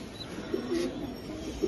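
A racer pigeon pair gives short, soft coos in the evening, a few low throaty notes close by over quiet background hiss.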